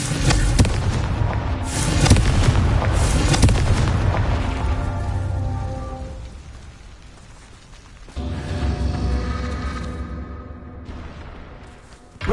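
Confringo fire spell blasts in the Hogwarts Legacy video game: loud booming fiery bursts crowd the opening seconds, fade into a rumbling tail, then another explosive blast hits near eight seconds and slowly dies away.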